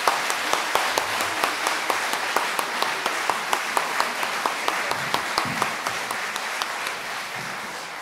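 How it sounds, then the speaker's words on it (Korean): An audience at a church concert applauds in a steady, fairly distant round of clapping that carries on evenly throughout, with a faint murmur of voices underneath. "다시 한번 큰 격려의 박수 부탁드립니다"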